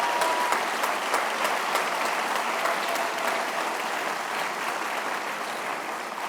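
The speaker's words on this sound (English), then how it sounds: "So let's give him an applause." Applause from an audience honoring a graduate at a technical school ribbon cutting ceremony, a steady wash of clapping that holds evenly throughout and fades slightly toward the end, with no voices over it.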